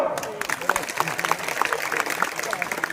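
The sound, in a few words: crowd applause at political rally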